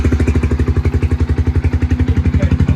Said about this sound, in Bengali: আপনার হাত থেকে আপনি বাইকটা একটু স্টার্ট করেন